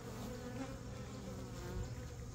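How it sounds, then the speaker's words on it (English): Honey bees stirred up while a hive is opened give a continuous, close, droning buzz with a low steady hum, loud and unbroken through the short stretch, with no talking. "a few bees came out on that"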